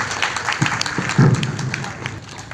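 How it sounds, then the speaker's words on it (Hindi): Applause from a crowd at the closing ceremony of an Arya Veer Dal camp in Roorkee, a steady wash of clapping at moderate volume with a few louder bursts along the way. "तालियों में कंजूसी ना करें।"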